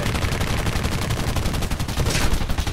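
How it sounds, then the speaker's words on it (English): Rapid bursts of aircraft gunfire from a War Thunder air battle, a dense, continuous rattling stream of shots that stays loud and close for the whole stretch, with no voices over it. "Oh, I'm shooting again."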